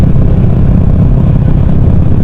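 Deep, loud exhaust rumble from a motorcycle with a LeoVince aftermarket exhaust, held steady and close with a gritty pulsing throb and no voices.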